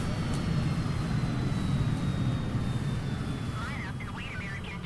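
Steady jet airliner engine roar in Microsoft Flight Simulator, a continuous loud low rumble with a thin high whine, as an American airliner holds on the runway waiting for takeoff clearance.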